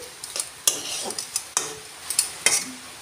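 Soybean chunks and capsicum being sautéed with spices in a pan for soya paneer, with a utensil scraping and stirring in sharp intermittent strokes over a faint sizzle, close and moderately loud.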